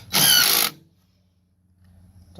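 A power drill driving the longer screws into the motor shroud of a 2020 Amana PTAC unit, one loud burst of about half a second, then near silence with a low hum.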